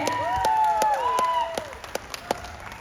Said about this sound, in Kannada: ಕನ್ನಡದ ಹೆಮ್ಮೆಯ ನಟ ವಸಿಷ್ಠ ಸಿಂಹ ಅವರಿಗೆ ತಮ್ಮೆಲ್ಲರ ಒಂದು ಜೋರು ಚಪ್ಪಾಳೆ ಬರಲಿ ಸ್ನೇಹಿತರೆ